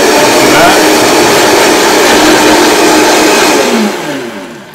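A kitchen blender whirs loud and steady while blending a low-fat vinaigrette with olive oil, the motor running at full speed for about four seconds before winding down at the end.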